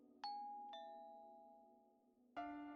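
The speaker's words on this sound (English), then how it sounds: "I rang the doorbell, then waited." Two-tone doorbell chime in the visual novel game Slow Damage, a ding then a dong ringing out clearly over a low hum, followed by a louder tone at the end.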